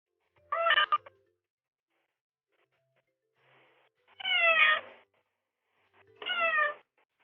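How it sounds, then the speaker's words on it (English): A cat meowing at a door to be let in, three loud drawn-out meows with long silent pauses between them, heard through a doorbell camera, close and alone. "This cat is desperately trying to alert the owner to open the door."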